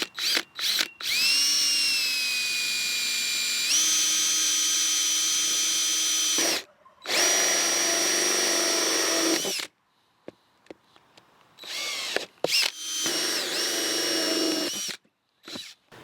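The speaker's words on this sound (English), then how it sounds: "let's get those first holes drilled" A power drill bores holes in several long, loud whirring bursts, each separated by short pauses, with a few brief clicks and fumbling noises between runs.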